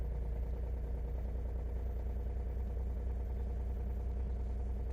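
A VW Lupo 3L diesel running on 80% waste vegetable oil idles roughly after a cold start, a steady low clattering rumble heard close up with no one talking.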